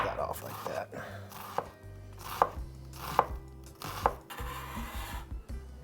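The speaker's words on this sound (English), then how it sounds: "Next, I have a half red onion. I'm gonna give it a nice mince." Half a red onion is minced with a knife on a board, giving steady, evenly spaced chopping thuds about once a second over a continuous background hum.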